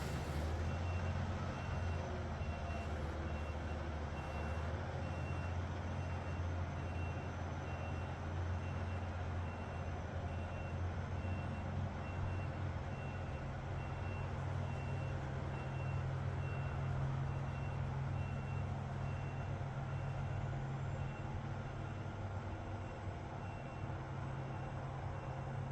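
A truck's reversing alarm beeps in a steady, evenly spaced series while the truck backs down an alley, over a constant low engine rumble, moderately distant and with no talk.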